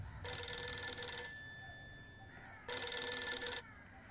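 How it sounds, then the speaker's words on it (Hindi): A mobile phone rings twice with a bright, electronic ringing tone, each ring about a second long, separated by a pause with a faint, fading tone. "सुनिए आपका फोन।"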